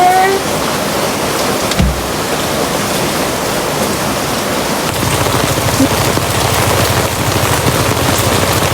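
Heavy rain pours steadily in a dense, hissing roar that never lets up, with a low rumble joining partway through, during flooding.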